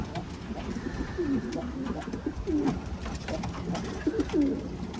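Pigeons coo softly several times over a noisy background with faint movement and rustling, the low calls repeating at irregular intervals.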